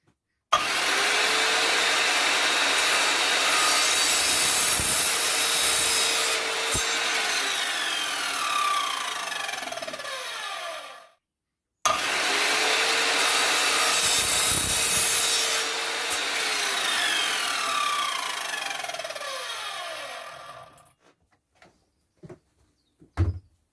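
A hand saw cutting a length of pipe into shorter pieces in a workshop, with two long stretches of steady back-and-forth rasping strokes separated by a brief pause, then a few scattered knocks as the cut finishes.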